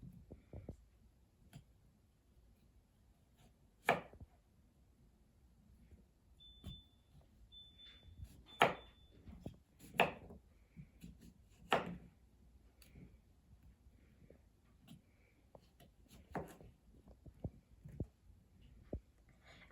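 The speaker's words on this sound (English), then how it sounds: "place your 2 cucumbers next to each other and cut them thinly" Knife cutting two cucumbers laid side by side into thin slices, giving quiet, irregular, sharp chops and taps on a board with no one talking.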